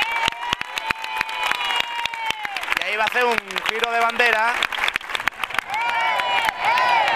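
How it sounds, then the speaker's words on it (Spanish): A street crowd at the Cascamorras festival in Guadix claps in sharp scattered bursts around the costumed figure, while someone talks over it and voices call out nearby. "Estamos escuchando los aplausos de la gente,"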